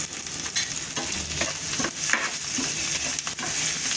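Finely cut curry leaves, red chilli powder, turmeric and coriander sauté in a hot pan, a continuous close sizzle broken by repeated scraping stirs of a spoon.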